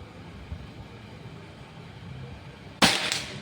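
A single sharp shot from a Predator Pajero Gen 6 air rifle during an accuracy test cracks near the end, loud and close, after several seconds of quiet background hum.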